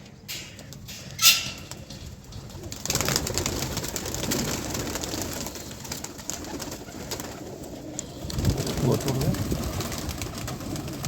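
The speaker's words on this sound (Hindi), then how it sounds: "देखिए इधर आ रही है कबूतर" Pigeons at a fancier's loft, including a prized bird with clipped flight feathers, give soft low coos and wing sounds against steady outdoor rustle, with someone talking nearby.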